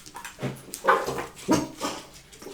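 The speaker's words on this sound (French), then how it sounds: "Et donc les chiens, ils aboient." Several dogs bark and whimper outdoors in a series of short, uneven yelps at moderate distance, with no talk over them.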